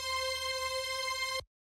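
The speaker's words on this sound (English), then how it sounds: "And then for the second layer, we have the string sample," Old-school string sample layer in a house production, a bright sustained string tone with a strong held pitch that plays steadily, then cuts off abruptly near the end, leaving silence.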